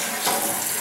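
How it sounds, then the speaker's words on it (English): A toilet flushing at 1.6 gallons per flush, a short burst of rushing water up close with no talking. "I'm gonna flush this toilet."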